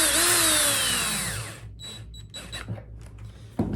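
Power drill boring holes in a plastic bucket, a loud high whine that winds down after about a second and a half, followed by light plastic knocks and handling clatter.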